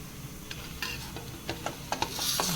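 Cumin and coriander seeds frying over low heat in a pan, a steady soft sizzle broken by light scraping and stirring taps, close up with no talk.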